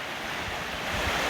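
A clear river flows over granite with a broad, steady rush of water that fills the whole clip, close and constant, with no voices.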